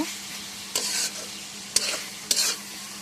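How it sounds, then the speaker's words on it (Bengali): Spiced mutton is stir-fried in a pan, a steady hissing sizzle punctuated by three bursts of louder scraping and crackling as the meat is stirred. "আর এটা সুন্দর করে কষায় নেব। যত কষানো যাবে ততই মাংসের টেস্টটা ভালো হবে।"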